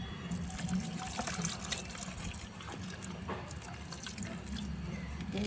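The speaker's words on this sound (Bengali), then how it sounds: "এবার জল দিয়ে দেব গাছে" Water splashes and gushes steadily onto a newly planted allamanda in soil, a continuous close wash of pouring liquid that lasts the whole stretch with no voices.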